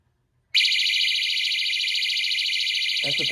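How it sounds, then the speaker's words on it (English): A Briidea Power Return alert unit sounds its roughly 100 dB alarm, a loud piercing continuous electronic tone that starts abruptly after a brief silence and holds steady, with a short clatter near the end. "I'm going to turn this on now, and it should be about 100 dB alarm."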